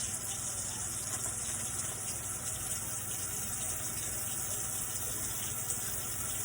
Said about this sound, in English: So we're going to lather. And wash for approximately 20 to 30 seconds.